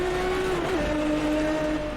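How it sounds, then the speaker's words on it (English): In Assetto Corsa, a Maserati MC12 engine holds a loud, steady high-pitched drone at the rev limiter, dipping briefly partway through before settling again, with no talking. "The rev limiter really does kick in."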